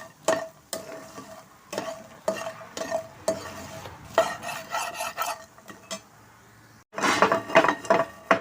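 Makhana fox nuts roast in ghee in a pan with a light sizzle, while a spatula scrapes and stirs in quick, repeated strokes that clink and rattle the nuts against the metal, close and clear.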